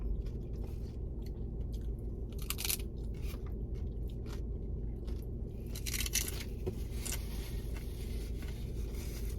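Crunchy tacos from Burritoz being eaten up close, with repeated crisp bites and chewing crunches over a steady low background hum and no talking.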